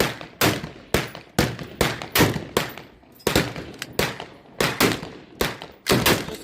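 Keltec SU-16 CA rifle firing M193 rounds at a 300-yard range, a steady string of about fifteen sharp, loud shots in quick rhythm, each with a short echoing tail and no talking.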